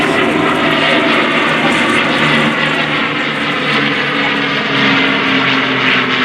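Several World War II fighter planes fly overhead in formation at an airshow, their propeller engines forming a loud, steady drone that barely changes over the whole stretch.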